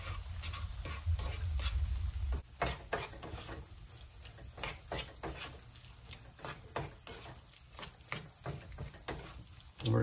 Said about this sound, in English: we're just gonna stir it in until it's melted